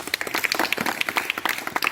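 An outdoor Independence Day celebration audience in Mahendra Hills claps together in a dense, steady burst of applause, close and continuous with many overlapping hands.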